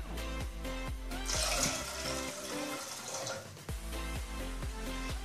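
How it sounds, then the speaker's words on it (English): Two cups of water pour steadily into a cooking pot with a splashing, rushing sound over rhythmic background music, no talking. "Let's pour in 2 cups of water because chicken doesn't need a lot to cook."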